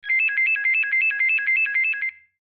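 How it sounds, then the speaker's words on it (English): A bedside telephone rings with a steady electronic trill, repeated pulses close and loud for about two seconds, then stops. "the phone by her bed rang"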